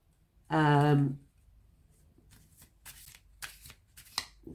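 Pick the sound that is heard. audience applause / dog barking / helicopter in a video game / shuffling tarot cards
shuffling tarot cards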